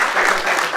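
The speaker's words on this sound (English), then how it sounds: "Applaud now if you're seeing a show here for the very first time." Theater audience applauds at an improv comedy show, a dense, steady wash of clapping from a crowd filling the room, loud and continuous with no talk over it.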